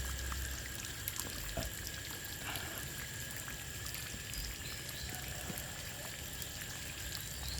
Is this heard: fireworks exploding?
no